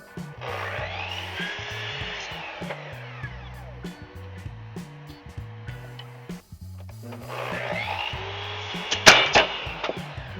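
Power tool milling wood strips for bent lamination handstand canes, a loud sustained whine with the cut dropping out briefly partway through, then resuming strongly.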